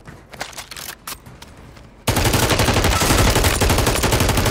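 Automatic gunfire in Call of Duty Warzone on Rebirth Island, loud dense continuous bursts that burst in suddenly halfway through after quieter scattered shots.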